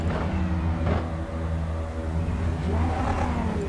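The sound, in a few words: race cars firing up and revving at Monza in iRacing video game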